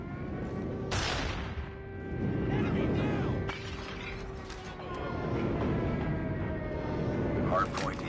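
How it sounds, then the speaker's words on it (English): Explosions from an airstrike in the Call of Duty Mobile video game, sharp blasts and shattering bursts in a busy firefight mix, with game announcer voice lines and gunfire around them. "Friendly airstrike incoming."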